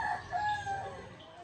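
A rooster crows in a native chicken breeding pen, one faint drawn-out call with a wavering pitch, heard from some distance.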